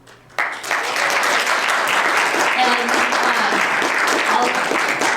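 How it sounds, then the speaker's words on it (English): An audience bursts into a round of applause after a short spoken word, and dense, sustained clapping fills the room for several seconds with a few voices mixed in. "So if you could all just give those Summit Stewards a round of applause."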